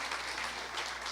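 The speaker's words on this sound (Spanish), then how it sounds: "Alguien aplaude al nombre del Señor en esta preciosa mañana." A church congregation applauds during a Sunday morning sermon, a brief, steady wash of clapping at moderate distance, fairly faint.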